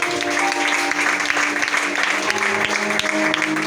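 A church congregation claps loudly and continuously throughout, with dense sustained applause and music-like tones underneath.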